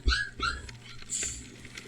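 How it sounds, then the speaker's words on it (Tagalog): A puppy that has been hit whimpers in a few short, high-pitched cries close by, with quiet pauses between them. "Nag-iiyak na ang tuta."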